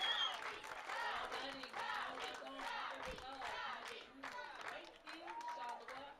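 Cheering squad in the stands at a junior men's baseball game between Canada and Mexico, shouting and clapping steadily throughout, a busy close crowd noise with voices rising and falling.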